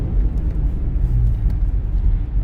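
A BMW 3 Series E46 accelerates at full throttle. Its engine gives a loud, steady low rumble, heard from inside the car with no pauses.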